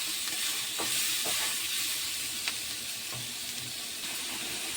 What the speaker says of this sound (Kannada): ಟೊಮೊಟೊ ಎಲ್ಲ ಫ್ರೈ ಆಗಿ ಮೆತ್ತಗೆ ಬೇಯಬೇಕು ರೀ.